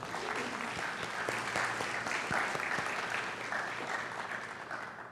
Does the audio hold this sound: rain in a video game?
no